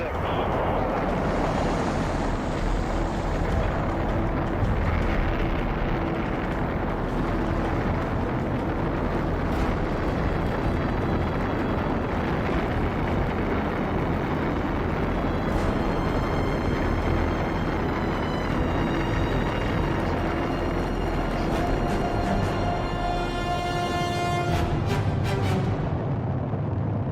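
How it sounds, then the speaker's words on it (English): A NASA rocket engine igniting and lifting off, a continuous loud broadband roar that holds steady throughout, thick with rumble and crackle, with no speech heard. "Ignition sequence start."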